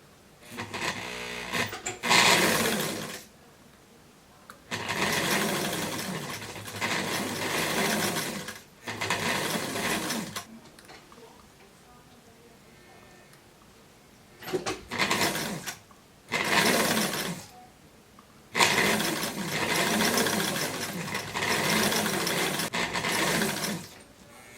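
Sewing machine stitching gathered ruffles into fabric for a casual dress, running in several steady bursts separated by short pauses, loud and close with no talking.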